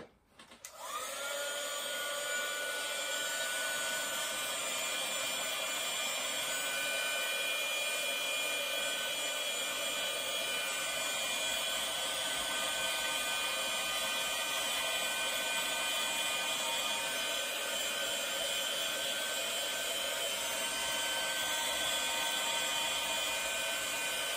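A steady, loud electric whine of a hair dryer drying paint, running continuously close by with a slight pitch shift at the start, no voices.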